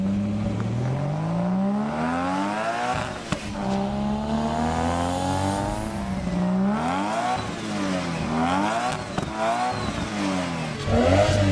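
An RB30-swapped Nissan R34 GTR fitted with an HKS T51R turbo revs hard again and again, its loud engine note sweeping up and dropping back in repeated surges with sharp pops between pulls.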